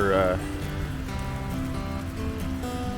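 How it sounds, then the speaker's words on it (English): Steady hiss of heavy rain falling on surfaces in a park in Cherokee, North Carolina, heavy and continuous, with a broad wash of noise throughout. "It started raining pretty bad"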